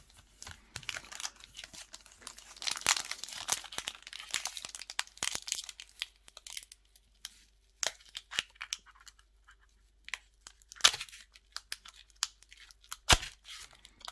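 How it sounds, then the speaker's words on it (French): A Pokémon card booster pack being torn open, with close, crinkly foil rustling and ripping in uneven bursts and pauses, ending in a few sharp tears. "Si j'arrive à l'ouvrir, décidément, ces boosters sont pas faciles à ouvrir."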